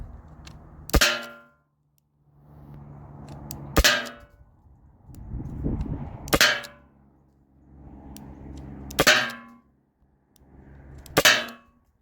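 Five sharp, ringing metallic impacts from Byrna SD rounds striking a Salt Supply S2 aluminum panel outdoors near trees, spaced roughly two to three seconds apart, each a loud clang with a short decay over quiet background.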